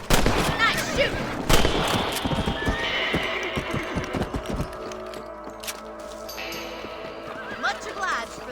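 Horses in the Western video game Red Dead Redemption whinny near the start amid clip-clopping hooves and sharp gunshots, then the scene settles into quieter ambience with occasional hoof sounds.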